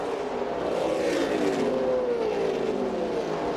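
Stock cars in a 2003 NASCAR Kodak Southeast Series race at Kentucky Speedway roar past in a pack, a loud continuous engine drone with pitch sweeping downward as the cars pass by.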